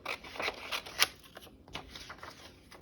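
Scissors snip through a paper rose cut-out for junk journal ephemera, a few close, crisp cuts in quick succession, then quieter rustling of paper.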